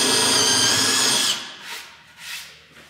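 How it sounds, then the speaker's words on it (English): A power drill bores a pilot hole into a wooden cornhole board, loud and close with a steady whine for just over a second, then quieter intermittent bursts as the bit spins down and restarts. "I'm gonna use my drill to give myself a pilot hole"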